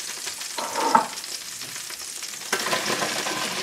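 Vegetables lightly pan-roasting alongside wild boar leg sizzle steadily and close, with a couple of louder stirring bursts as they are turned, no voices.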